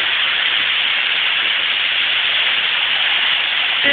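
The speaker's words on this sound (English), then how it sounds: "Okay, for the last 5 days, it's been raining. Just like this." Torrential spring downpour in North Carolina, a thick constant wash of rain hissing close by, even and loud throughout with no talking.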